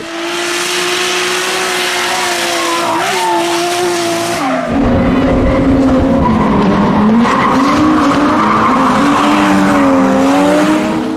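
A Toyota Mark II JZX100 sedan drifting, with a loud sustained tire squeal and engine drone, then a sharp shift into harsher skidding with wavering pitch as the car slides, close and continuous.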